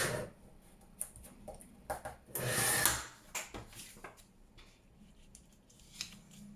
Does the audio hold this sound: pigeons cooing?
no